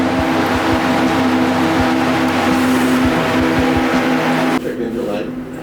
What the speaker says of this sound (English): That's how loud this car is now.